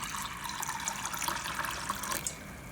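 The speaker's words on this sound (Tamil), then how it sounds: "கடலைப்பருப்பு சேர்த்ததுக்கப்புறம் அதில் கொஞ்சம் தண்ணி சேர்த்து 2-3 தண்ணியில் ஃபஸ்ட்டு இதை அலசி எடுத்துக்கலாம்." Water pours steadily into a bowl of soaked chana dal to rinse it, a continuous soft splashing trickle at moderate distance with no talk.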